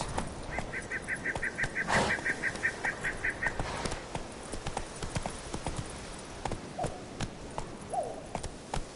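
Roach, the horse in the video game Witcher 3, gallops with rapid, rhythmic hoofbeats that run steadily throughout, mixed with game ambience and a brief honking bird-like call early on.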